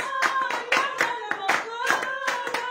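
Church congregation clapping in rhythm during a French-language worship song, steady repeated hand claps over sung music with tonal voices.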